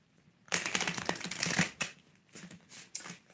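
A deck of tattoo-themed tarot cards is shuffled close up, giving a dense riffling flutter of card edges. It comes in a long burst, followed by a few shorter shuffles with brief pauses between them.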